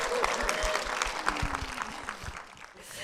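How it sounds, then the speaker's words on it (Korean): A church audience applauds to welcome a deacon to the stage, a dense patter of many hands with a voice and a swelling musical tone mixed in beneath the clapping. "우리의 길수 오빠, 네, 이길수 집사님 박수로 모시겠습니다"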